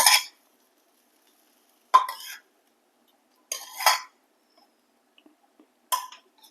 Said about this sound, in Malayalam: നന്നായി താത്തി വെക്കുക